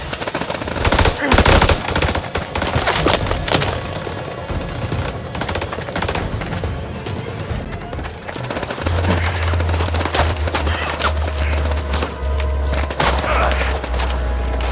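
A firefight roars with dense, continuous bursts of automatic gunfire and heavy booms, loud and close throughout, with shouted voices buried in the din.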